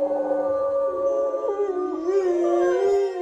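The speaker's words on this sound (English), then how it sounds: "When she howled, they immediately howled back." Wolves in a pen howl back together, several long overlapping sustained tones rising and bending over one another, close and steady throughout with no talking.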